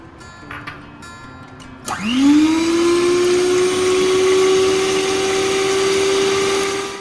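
An electric mixer beats butter, sugar and eggs for a chocolate cake. It starts with a sudden rising whine and then runs at a steady, loud, high-pitched hum, after a few quiet clinks at the start.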